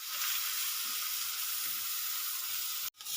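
Onion paste hitting hot oil with cumin in a pan for a lote fish kofta curry, giving a loud, steady broadband sizzle that drops out abruptly near the end.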